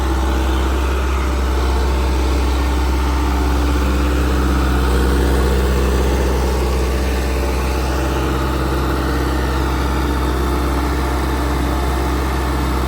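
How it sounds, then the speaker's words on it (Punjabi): A heavy tractor engine idles steadily nearby with a deep, constant throb and rattling vibration, loud and unchanging throughout. "ਉਹ ਟਰੈਕਟਰ ਤਣ ਗਿਆ"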